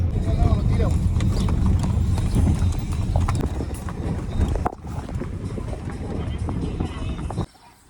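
Horses' hooves clip-clop steadily on pavement at a park viewpoint in Lo Barnechea, Santiago de Chile, where horses are for rent. The close, busy clatter runs under people talking and fades to quiet at the very end.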